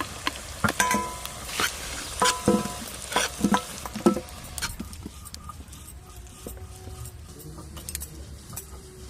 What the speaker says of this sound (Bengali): তেলের সাথে আর একটু ঘি দিয়ে মাংসগুলো খুব ভালো করে ভেজে নেব